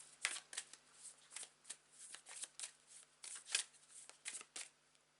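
Tarot cards being shuffled by hand, a quick series of crisp riffling bursts and soft flutters, close and fairly quiet, with no one talking.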